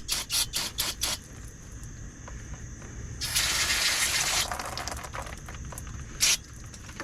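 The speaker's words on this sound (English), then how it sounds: "Grab my brake clean. We're going to give that a little bit of a douching to clean it up a little bit." Brake cleaner sprays from an aerosol can onto the front brake parts of a 2001 Buick LeSabre, a loud hissing burst of about a second amid nearby clicks and handling noises.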